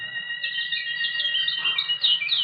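Birdsong sound effect in an old-time radio horror drama, steady high chirps and trills running continuously with slightly rising intensity, no voices over it.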